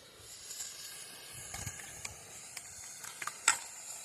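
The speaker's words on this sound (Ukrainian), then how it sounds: "Ну а зараз будемо жарити рибку." Fish frying in a pan gives off a low, steady sizzle, broken by scattered sharp pops and crackles that grow a little more frequent toward the end.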